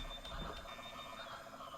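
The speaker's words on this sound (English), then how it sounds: "there's a constant alarm noise" In a video game, a faint, constant electronic alarm keeps sounding with a thin steady tone and pulsing buzz beneath, low in the mix against background game noise.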